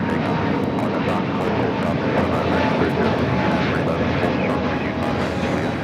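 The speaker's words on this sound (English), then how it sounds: "This is Spirit Airlines 2523 taking off to Fort Lauderdale on the A320neo" Spirit Airlines Airbus A320neo taking off at Los Angeles International Airport: a steady, loud broadband jet roar holds evenly throughout, with possible faint voices in the background.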